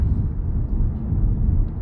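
Steady low engine rumble of a passing number 87 city bus on a Glasgow street, continuous and fairly loud, with no voices.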